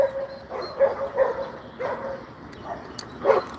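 Several dogs bark and yip from behind porches along a street, a string of irregular barks at moderate distance with brief gaps between them, no talking over them.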